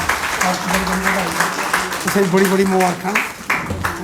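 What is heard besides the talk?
applause for Sanjita Dogra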